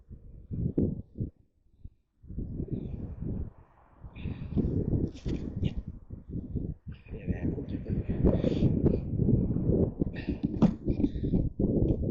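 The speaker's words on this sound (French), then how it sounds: "je suis en plein vent" Heavy low rumbling buffets of wind hitting the microphone, nearly continuous, with someone talking underneath, outdoors in a cemetery at night.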